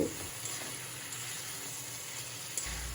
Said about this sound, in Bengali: আমি ভালো করে মশলার সাথে ঢ্যাঁড়সটাকে কষিয়ে নেব